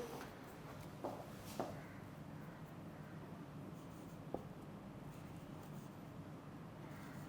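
A teacher writes during an English lecture, leaving faint scratchy pen or marker strokes with a few light taps against a quiet, steady room hiss.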